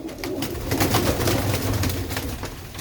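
Pigeons coo in soft, repeated throaty calls, several birds close by and overlapping in a steady murmur, with no speech.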